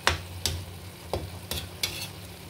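Ginisang pichay, sautéed bok choy, cooks in a pan with a steady sizzle broken by five sharp stirring scrapes spaced roughly half a second apart, close and without talking.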